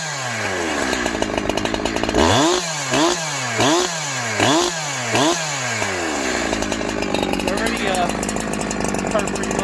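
Farmertec Holzfforma G372XP chainsaw, newly assembled and on its first start, idles and then revs hard in a string of sharp throttle blips, then holds a loud, steady run; the engine is close and dominates, with talk beneath it.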